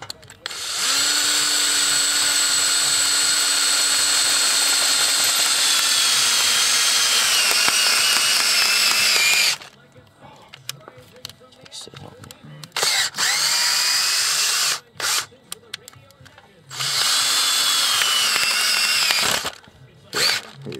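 A power drill drives inch-and-a-half bolts through half tire blocks for an Earthship build, whirring loudly in long continuous runs and then in shorter bursts with pauses, the motor pitch sagging under load.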